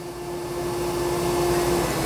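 A Dyson Spot+Scrub AI robot vacuum runs in vacuum-only mode over a floor with a Cheerio crumb, giving a loud continuous whirring hum with a steady motor whine and no voices.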